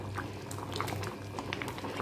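A pot of lady's finger (okra) sambar bubbling on the stove, a close, continuous simmering gurgle with small pops and a low steady hum underneath.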